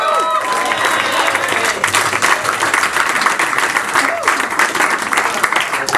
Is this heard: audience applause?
yes